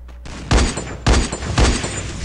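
Three sharp, booming gunshots ring out in a shooter video game, spaced roughly half a second apart over a steady background hum, loud and close.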